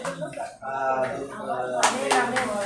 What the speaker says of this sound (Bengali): আসুন আমরা হাততালি দিয়ে স্বাগত জানাই।